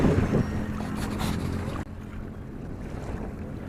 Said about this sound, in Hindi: पानी की लहरें उठ रही है।